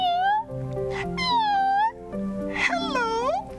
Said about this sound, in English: Onyok saw another cat in front of him.